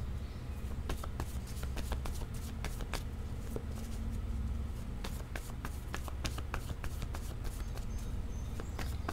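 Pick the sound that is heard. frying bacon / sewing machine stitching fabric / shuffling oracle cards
shuffling oracle cards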